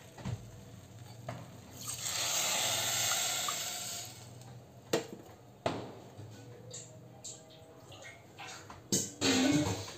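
Water poured onto sugar in a bowl on a stove for gulab jamun syrup makes a steady hissing pour for a couple of seconds, followed by a few sharp clinks and knocks of utensils.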